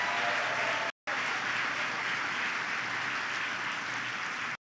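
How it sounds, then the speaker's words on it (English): Audience applause for Steve Finch, plant manager at a General Motors plant in Western New York, fills the space as dense, steady clapping that breaks off for a moment and then resumes until the end. "Let's have a big round of applause for Steve Finch, who's doing a great job as the plant manager here."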